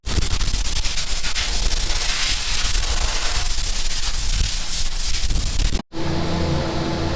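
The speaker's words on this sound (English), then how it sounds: "we're going to grab the air compressor, jump in, blow it out as best we can" An air compressor's nozzle blasts air through seeding machinery on a Western Australian farm, a loud harsh rushing hiss that runs steadily, cuts off briefly, then resumes.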